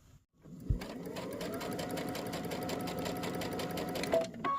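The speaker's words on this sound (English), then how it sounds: "So now we can take it to the machine and stitch 5/8 of an inch seam allowance on that long edge." A sewing machine stitches a 5/8-inch seam along the long edge of a slip dress, with one continuous steady run of fast, even, close-up whirring.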